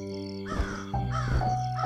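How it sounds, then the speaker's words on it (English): Close, harsh crow caws, two rough calls in quick succession over a faint steady tonal background. "This crow is my friend."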